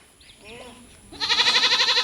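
Goats bleat at a livestock trade, a soft muffled cry followed by a loud, wavering close bleat, with a voice murmuring faintly beneath.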